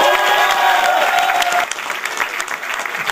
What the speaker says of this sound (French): Je vous demanderai un tonnerre d'applaudissements pour notre Astérix gaulois